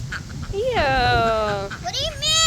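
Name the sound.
big duck quacking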